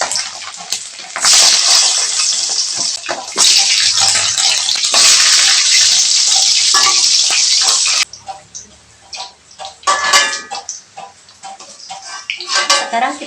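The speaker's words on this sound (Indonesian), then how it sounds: "Sekarang kita goreng lempanya sebentar aja pakai api kecil." Fish sizzles in a pan over low heat while a simple Sundanese home meal is cooked, a loud hissing spatter that surges in long stretches, then gives way to scattered clinks and scrapes of cookware.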